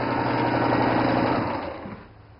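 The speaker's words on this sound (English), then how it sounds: "I start on one corner, and I sew about 3/8 of an inch from the edge all the way around" A sewing machine runs a seam about 3/8 inch from the fabric edge with a steady, fast whirring drone that winds down and fades near the end.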